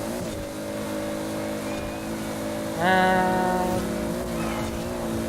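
A Toyota Supra engine droning steadily while driving a lap in Forza Horizon 4, with a sharp rise in revs partway through before settling back to a steady hum; a single spoken word is barely present.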